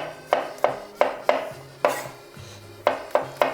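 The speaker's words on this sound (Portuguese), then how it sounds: "vamos laminar uns alhos" Knife slicing garlic cloves on a board in a Portuguese kitchen: about ten crisp, evenly spaced cuts, close and fairly loud, with a short pause near the middle and no talking.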